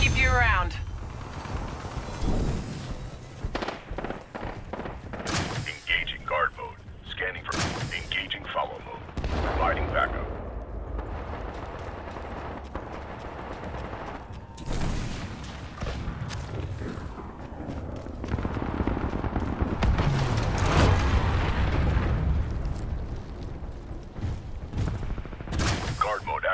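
Titan primary weapons firing in Titanfall 2, heavy booming shots and bursts scattered irregularly among explosions and mechanical clanks, with a voice speaking between the blasts.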